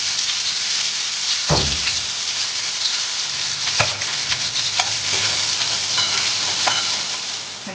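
Onion sizzles in mustard oil in a kadai, a loud, steady close-up frying hiss broken by a few sharp stirring knocks.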